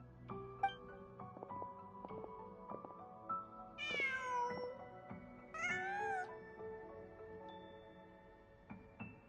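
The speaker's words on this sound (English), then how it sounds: "Just a cat." A cat in the video game Genshin Impact meows twice, in two short, clear calls a couple of seconds apart, over soft game background music and ambience.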